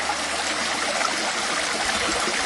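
Flowing stream water at a base camp rushes in a steady, dense wash, close and constant, with no voices.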